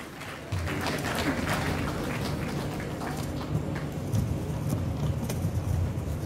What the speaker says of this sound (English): A round of applause as he steps up for his opening remarks.